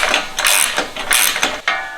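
A ratchet clicks in quick, close bursts while tightening 13mm nuts on a Eurowise modular roof rack for a Cayenne or Touareg.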